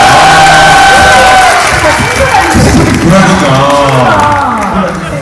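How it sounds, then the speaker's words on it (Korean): A loud, close crowd at a high school festival cheers, whoops and applauds a student's trot song performance, with excited voices shouting over the clapping. "와, 박수 한번 부탁드리겠습니다, 진짜."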